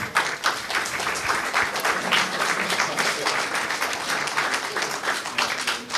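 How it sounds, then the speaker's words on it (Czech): Audience applause after a panel discussion on free speech, a steady sustained wash of clapping from a crowd, fairly loud and continuous throughout with no gaps. "myslím, že zaslouží potlesk"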